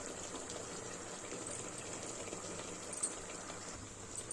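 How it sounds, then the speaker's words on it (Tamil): Hot water poured into a pot of rice for biryani, a steady gushing, splashing stream running close and continuous throughout, with no talk over it. "இப்போ நம்ம தண்ணி ஊற்றிக்கலாம்"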